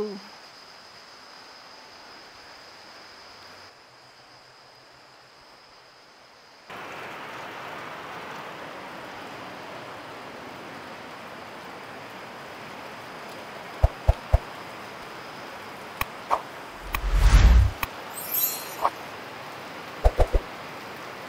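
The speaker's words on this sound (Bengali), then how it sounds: "বৃষ্টি হচ্ছে কিন্তু।" Rain falls near Aritar Lake in East Sikkim, a soft, steady outdoor hiss that grows fuller partway through. Scattered close knocks and handling bumps come through near the end.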